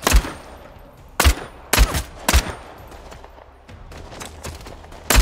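Gunfire in a battle royale video game comes in sharp, loud bursts: several separate shots and short volleys, with quieter distant shots between them and no voices over them.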